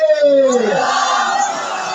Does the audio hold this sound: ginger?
no